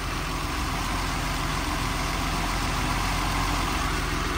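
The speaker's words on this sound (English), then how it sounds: "Listen to the motor." 1982 Mercedes-Benz 280SL five-speed with 10K miles idling after a cold start, a steady, even, close low engine rumble with a regular pulse and no rattles, no voices.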